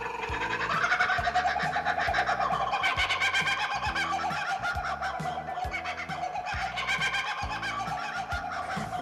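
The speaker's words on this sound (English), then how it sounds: "he is called a laughing kookaburra because of the song that he makes" A recorded laughing kookaburra call plays back as a loud, continuous, rolling cackle of rapid repeated hoots that rises and falls in waves.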